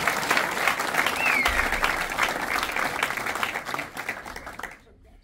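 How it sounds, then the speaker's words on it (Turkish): Applause from an audience at a business association gathering, a steady dense wash of clapping that holds for several seconds before thinning and fading out near the end. "Burayı alkışlayın."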